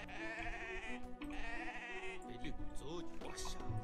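Sheep in the strategy game Empires Apart giving repeated wavering bleats, close and clear, with someone talking over them in places.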